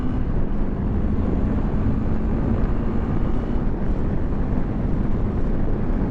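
A 2022 CFMoto 650 Adventura motorcycle engine drones steadily under heavy wind rush while riding, its note running through a clutchless lift shift without pause; no voices.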